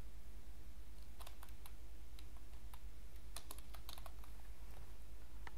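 Soft, irregular key clicks of a computer keyboard as someone types an SQL ORDER BY query, scattered taps and short bursts over a steady low hum, with no voices.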